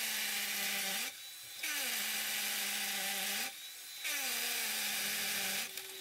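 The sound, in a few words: drill boring hole in floor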